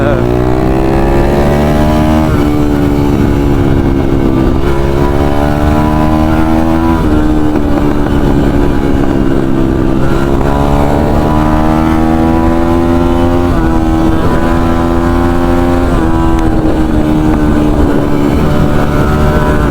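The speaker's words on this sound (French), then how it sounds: "donc c'est une 250, un Thunder 250 de chez Smalemix" A Thunder 250 dirt bike engine, a 250 cc enduro motor, running loud and close with a steady idle and repeated revs that rise and fall; a voice talks over it.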